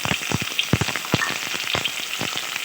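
Half-boiled broccoli dropped into hot ghee in a clay kadai, crackling and sizzling with quick irregular pops over a steady hiss, close and moderately loud.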